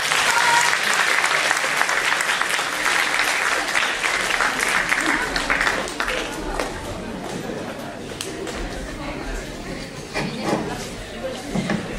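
A theatre audience applauds before a show begins, dense clapping that starts strong and gradually thins out and fades over about twelve seconds, with some murmuring in the room.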